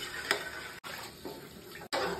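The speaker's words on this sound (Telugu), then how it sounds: "రైస్ ఉడకడానికి వాటర్ వేసుకోవాలి" Water splashes and trickles into a cooking pot for rice, a soft, uneven pour close by with brief pauses.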